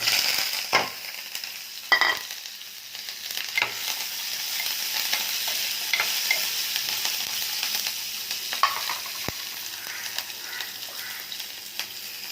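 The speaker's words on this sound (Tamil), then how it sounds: "கடுகு, கருவேப்பிலை, வெங்காயம், வெந்தயம், பூண்டு எல்லாம் போட்டு மீனுக்கு தாளிக்கிறேன்" Steady hiss of oil sizzling in a pan with mustard seeds, curry leaves, fenugreek, onion and garlic crackling for a fish dish, broken by a few sharp clinks and stirring scrapes; no voices.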